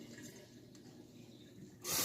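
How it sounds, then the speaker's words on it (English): Water running and splashing as it is poured into a jar of grain being rinsed for mushroom spawn, a steady close trickle that swells into a louder gush at the end. "Add in more water again. About to the rim again."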